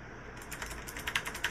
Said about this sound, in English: This one's flat typing, and this one is clear typing.